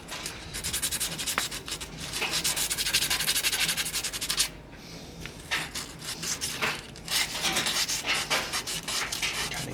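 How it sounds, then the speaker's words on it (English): Brake shoes get a light scrub with soapy water, giving rhythmic rough scrubbing strokes up close that pause briefly midway and then resume. "We're just giving it a light scrub, trying to take off that shine on the shoes."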